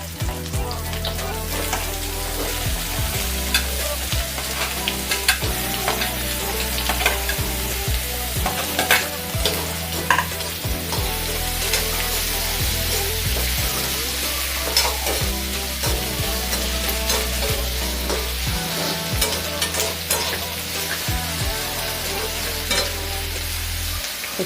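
Chopped onion and scooped-out parwal filling fry in a little oil in a pan with a loud, continuous sizzle, while a spatula stirs and scrapes in repeated strokes throughout.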